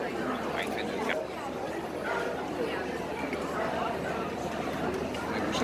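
Dogs bark and yip amid a busy indoor dog show, with crowd chatter and nearby talk running steadily underneath.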